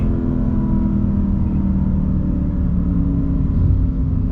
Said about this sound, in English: just got to hear that engine note one last time. It does rev very quickly.